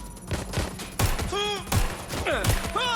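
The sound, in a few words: gunfire in the video game Watch Dogs: Legion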